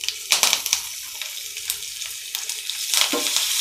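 Curry leaves hit hot oil with a sudden crackling sizzle, bursts of spattering pops over a steady frying hiss, close by with no talking.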